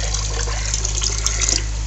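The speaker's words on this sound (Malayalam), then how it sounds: "ഇപ്പം നമ്മളിത് വെള്ളത്തിലേക്ക് ഒഴിച്ചു കൊടുക്കുക" A yeast mixture is poured into a container of water for a Moina culture, a short, steady trickling splash lasting under two seconds.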